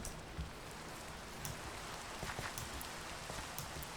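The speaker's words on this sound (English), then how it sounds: "But the rain's really beautiful too. I really like the way that it sounds." Continuous rainfall in Minecraft hisses evenly, with scattered louder drops pattering on a surface, steady and fairly soft throughout.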